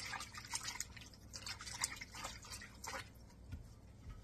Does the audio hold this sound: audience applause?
no